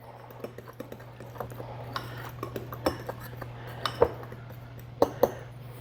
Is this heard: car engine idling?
no